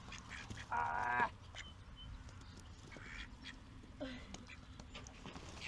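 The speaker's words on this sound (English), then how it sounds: "Hi, ducks." Small ducks quacking in a brief loud burst, handled by people at close range, with fainter calls following; people talk nearby.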